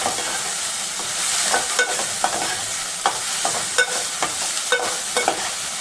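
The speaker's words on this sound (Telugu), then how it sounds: "వేడెక్కిందండి, ఆయిల్ పోసుకుందాం అండి. ఇందులో జీలకర్ర వేసుకుందాం కొద్దిగా." Cumin seeds frying in hot oil in a pan on a gas stove while crab curry is prepared, giving a steady close sizzle and crackle with small sharp pops and occasional stirring clinks, no voices.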